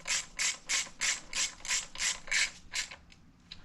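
A ratchet wrench snugging bolts on a 2018 Harley-Davidson Sport Glide derby cover, eight quick even bursts of rapid clicking in steady rhythm, close and clear, then tapering to a few faint clicks, no voices.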